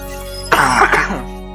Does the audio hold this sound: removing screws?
no